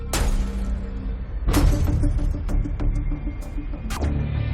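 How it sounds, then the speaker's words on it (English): A hammer striking and shattering the door glass of a truck during a break-in at a metal security gate, with several sharp crashing impacts spread over a few seconds against a steady background rumble. "this man uses a hammer to break the door glass"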